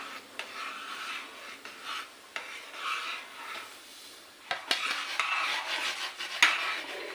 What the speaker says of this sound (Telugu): ఇలా ఉండ కట్టకుండా కలిపేసుకోవాలి నీట్గా